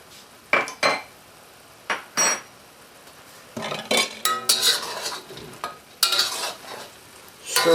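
Bourbon chicken sauce with brown sugar stirred in a wok, a spoon scraping and clacking against the metal in short bursts over a light sizzle, loud and close with brief pauses between strokes.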